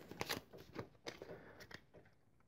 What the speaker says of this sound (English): take your objective cards, shuffle them